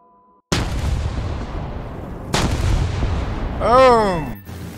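Two heavy bomb blasts in War Thunder boom out one after the other as an ME264 strikes an enemy base. Each deep roar decays slowly, and a warbling tonal sweep follows near the end.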